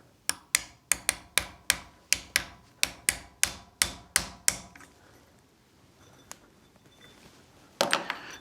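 A piece of nylon is pushed through the magazine well of a 1911 pistol frame to tap the ejector loose. About fifteen sharp, evenly spaced taps come in a quick run, then a quiet pause and a final cluster of knocks.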